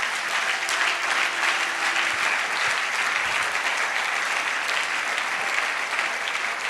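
Church congregation applauding the Lord during a Congolese worship service, a steady dense wash of clapping that fills the whole stretch at even loudness with no talk over it.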